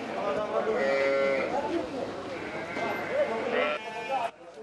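Sheep for sale at a holiday livestock market in Kazakhstan bleat in overlapping, wavering calls over busy crowd noise and talking, loud and close.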